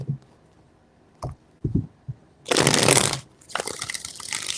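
Tarot cards shuffled by hand in two bursts, a dense riffling rush followed by a second shuffle, after a few soft taps and handling clicks, close and alone.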